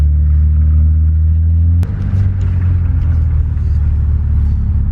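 Toyota Cressida bosozoku car engine idling with a low, steady rumble, then a sharp clunk and a rougher, throatier idle as it pulls in, close and loud.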